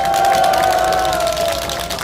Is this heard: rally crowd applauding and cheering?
yes